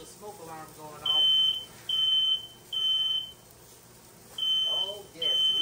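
Smoke alarm set off by cooking jerk chicken in a kitchen, beeping in loud, regular bursts, about five shrill chirps with short gaps, while a person speaks quietly in the background at start and end.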